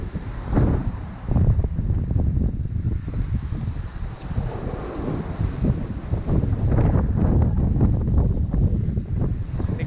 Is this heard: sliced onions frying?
no